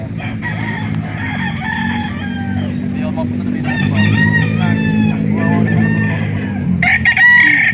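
Roosters crow repeatedly, loud and near, among Sweater Kelso gamefowl at a poultry market in Barangay Dayap, Curva, Calauan, Laguna, over a steady crowd murmur, with someone talking briefly.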